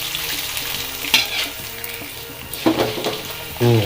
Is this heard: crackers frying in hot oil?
yes